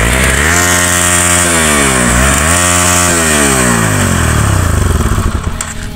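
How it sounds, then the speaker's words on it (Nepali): A motorcycle on the road up to Nagarkot, its engine revving loudly up and down in rising and falling sweeps, close and harsh, fading slightly at the end with no talk. "बाइकको साउन्ड चाहिँ यस्तो छ है फेरि हाम्रो"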